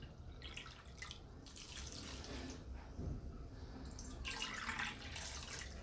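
Water pours steadily into a cooking pot for a creamy corn dessert, a faint, continuous splashing trickle heard close by without speech.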